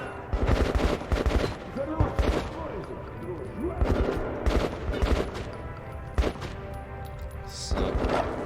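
Gunfire in the Metro 2033 Redux shooter comes as repeated loud bursts and single shots, spaced irregularly, with someone talking between volleys.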